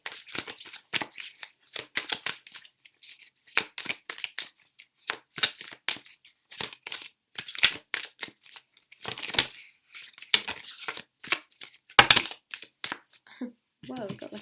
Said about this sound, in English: So let's shuffle out the rest of these tarot cards